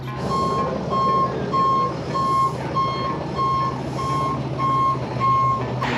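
Backup alarm on a tow truck reversing, a steady series of evenly spaced electronic beeps about twice a second, loud and near over a continuous low diesel engine idle and road rumble, with no talking.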